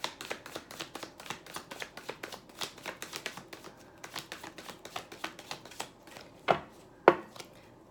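A deck of tarot cards is shuffled in quick, crisp riffling bursts repeated many times in a steady rhythm, close by and fairly soft, ending with a couple of sharper taps as the deck is squared, with no voices.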